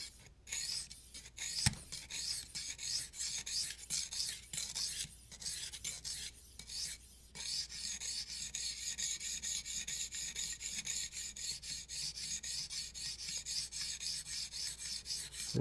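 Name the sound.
knife being sharpened with a sharpening system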